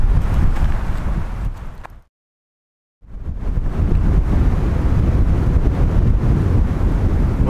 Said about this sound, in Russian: подождем сейчас, пока ветер кончится.